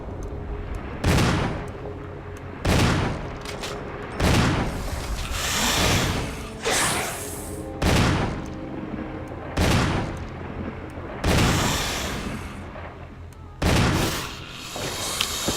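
Loud, booming gunshots from the Resident Evil HD Remaster game ring out one at a time, about eight in all, spaced a second or two apart over a steady low background hum.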